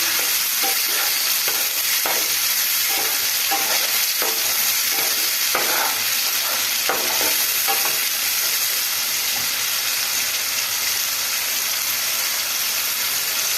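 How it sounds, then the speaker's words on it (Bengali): Ginger, green chili and tomato paste sautéing in a hot pan give a steady, loud close-up sizzle, broken by regular scraping strokes of a spatula during the first half. "এই টমেটমটা দিয়ে আমাদের এই আদা কাঁচা লঙ্কা আর টমেটমটাকে ভালো করে কষিয়ে নিতে হবে"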